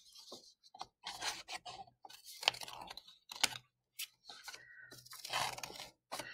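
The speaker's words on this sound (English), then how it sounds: "Now I'm going to start cutting on this side that's folded." Scissors snip and rasp through folded paper close by, a series of irregular crunchy cuts with brief pauses between them.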